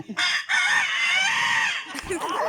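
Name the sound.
man imitating a third rooster crowing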